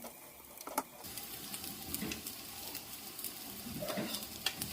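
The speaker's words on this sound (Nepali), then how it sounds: "अब हामीले मसलालाई फ्राई गर्नुपर्छ।" Masala spices fry in a pan over a medium gas flame, with a steady soft sizzle broken by sharp crackles and pops. Spoon scrapes and stirring clatter come through now and then.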